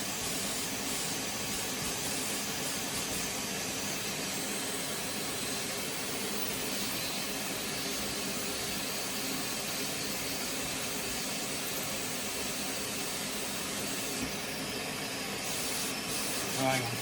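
A Numatic Henry Compact HVR160 vacuum cleaner runs on a workbench, giving a steady, loud broadband whoosh and hiss that holds unbroken for the whole stretch.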